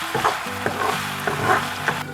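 Tomatoes sauté in a pan for a mutton keema kozhambu, giving a steady close sizzle broken by several scraping stirs about every half second to second, with no talking.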